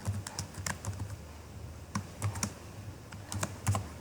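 Code being typed on a computer keyboard, close and fairly quiet, with clusters of quick key clicks separated by short pauses and no voices.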